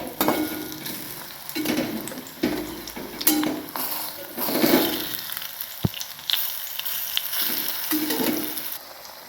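Eggplant slices frying over a very low flame, a steady soft sizzle broken by occasional light clinks and scrapes of a utensil in the pan, with no talking.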